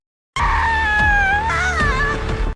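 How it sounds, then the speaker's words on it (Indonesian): A person screams in pain while a finger is cut off, a loud sustained wailing cry that begins abruptly after a short silence, wavers in pitch, and breaks into a second anguished burst before cutting off. "sampai Sehyun berteriak kesakitan."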